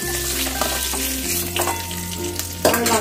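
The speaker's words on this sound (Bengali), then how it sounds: "দেখো পনিরগুলোকে আমি হালকা করে একটু এপিট ওপিট করে ভেজে নিয়ে তুলে নিচ্ছি।" Paneer cubes frying in a pan, sizzling steadily with occasional scraping and turning sounds and a sharper clatter near the end, over a background hum with tonal interference.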